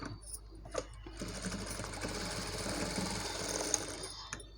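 A sewing machine runs steadily while stitching a baby frock, a continuous close mechanical whir with rapid needle clatter, starting after a few brief knocks and ending with small clicks.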